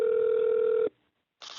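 A steady telephone ringback tone hums loud and close while a call to a food delivery app's customer service line connects. It cuts off into a brief silence before a voice begins.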